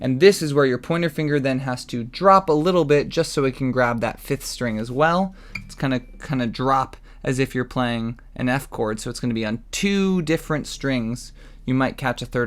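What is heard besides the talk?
No everyday noises stand out.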